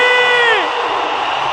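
A large crowd at Kasarani cheers for president-elect William Ruto, a loud sliding whoop ringing out over a dense, steady roar of many voices.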